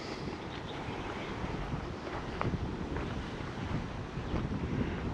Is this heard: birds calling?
no